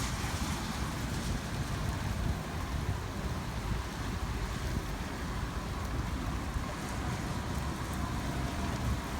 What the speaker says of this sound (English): The wind is definitely going faster.